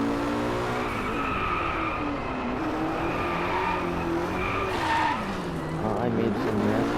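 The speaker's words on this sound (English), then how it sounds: "We can feel the engine screaming, but it's not as good as the Ferrari at all." A McLaren P1 in the racing game Driveclub screams at high revs, its engine note rising and falling with gear changes and tire squeal, loud and continuous while a voice talks over it.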